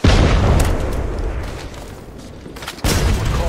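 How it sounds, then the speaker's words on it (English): A grenade goes off in the Apex Legends battle royale shooter as a loud, close boom with a rumbling tail that fades out, and then a second sharp blast bursts near the end. "Eyes open, grenade!"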